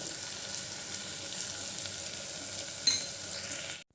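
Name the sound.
frying ginger garlic paste with onions and spices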